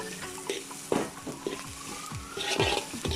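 Spring onion and curry leaves sauté in a pan with a continuous sizzle, broken by several scraping stirs of a spoon against the pan, close and fairly quiet, with no talking.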